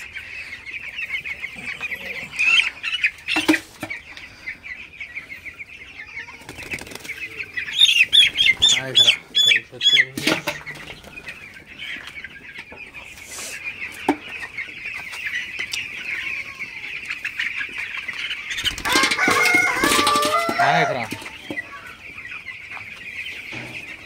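Broiler chicks cluck and chirp repeatedly, some calls close and sharp, others softer, with brief rustling and a steady background hum throughout.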